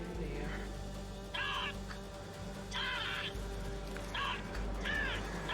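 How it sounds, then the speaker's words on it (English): A crow caws repeatedly, several harsh calls in uneven bursts over a steady background hum, fairly clear and moderately near. "I mean, a crow is kind of ominous,"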